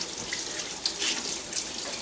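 Tap water runs steadily over a vacuum HEPA filter in a sink to rinse the dirt off, giving a close, continuous splashing hiss that changes a little as the flow hits the filter.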